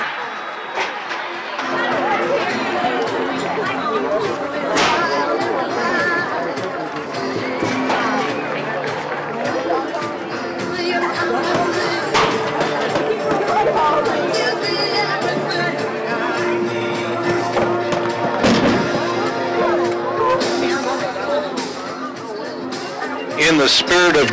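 A gym crowd after a record-breaking college basketball win, a steady indoor babble of many overlapping voices chattering and cheering, loud and continuous throughout with brief sharper bursts.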